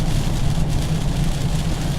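A 2015 BMW 428i pulls hard under acceleration, a dense, loud, steady engine drone heard from inside the car for a couple of seconds.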